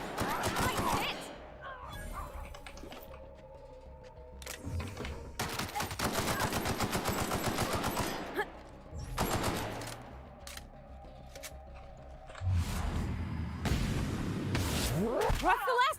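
Bursts of rapid assault rifle fire in The Outer Worlds, in loud clusters that stop and start over several seconds, with a steady game hum between volleys.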